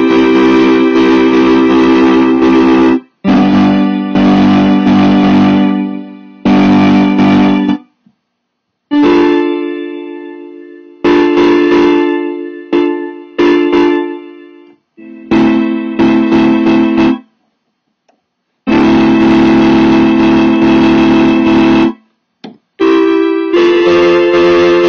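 A Gibson G101 organ plays sustained tones with its percussion repeat function on, loud bursts of chords that start and cut off in irregular, stuttering chunks with short silences between.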